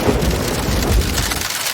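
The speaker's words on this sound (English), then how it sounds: "Rain." Steady heavy rainfall pours with low rumbling thunder rolling underneath, a dense continuous storm soundscape with no voices.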